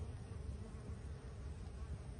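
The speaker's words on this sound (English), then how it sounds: "I did find a bunch of bees. I think they're thirsty." A swarm of thirsty bees gathers at water near flowers at a North Texas rockhounding spot, giving a faint, continuous low buzzing drone with no voices.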